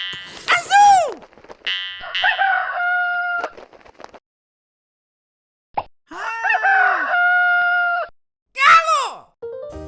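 A parrot imitating a rooster's crow, two loud drawn-out calls separated by a pause, with short squawks before and after.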